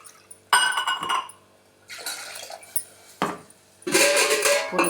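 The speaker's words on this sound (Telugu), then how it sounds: "ఉప్పు అన్నీ చూసుకొని నీళ్ళు పోసుకోండి" Water being poured into rasam, rinsed from a mixer jar, in three separate splashing pours with light clinks of glass and utensils between them, no talking.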